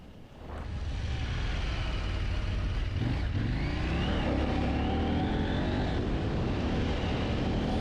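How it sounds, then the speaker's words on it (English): A 2020 KTM 790 Adventure R motorcycle ridden on rough forest trails, its engine a loud, steady, close drone with revs rising and falling throughout and no talking. "I've got this premium dirt-oriented adventure bike on some rougher trails"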